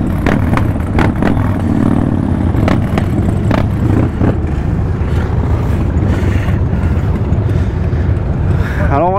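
A group of Harley-Davidson motorcycles sets off from Tarbes for a protest ride, their engines rumbling loud and continuous with wind buffeting the microphone throughout.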